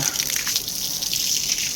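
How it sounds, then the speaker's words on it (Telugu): Water sprayed from a hose onto the walls of a house under construction, a close, steady hissing splash that continues without a break through the short stretch, with no talking. "అదండి వాటరింగ్ అయితే స్టార్ట్ చేశాను అనమాట"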